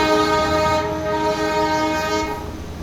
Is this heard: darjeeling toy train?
yes